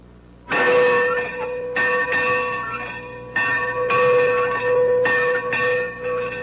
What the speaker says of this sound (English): Ringing an old bell to begin classes